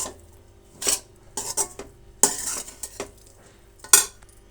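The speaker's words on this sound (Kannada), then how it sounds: "ರೈಸ್ ಜೊತೆ ಕೂಡ ಒಂದು ಅರ್ಧ ನಿಮಿಷ ಕಾಲ ಚೆನ್ನಾಗಿ ಫ್ರೈ ಮಾಡ್ಕೊಳ್ಳಿ." Rice with radish and carrot being stir-fried in a pan, with several sharp metallic clanks and scrapes of a spoon against the pan over a quiet background, close up and without speech.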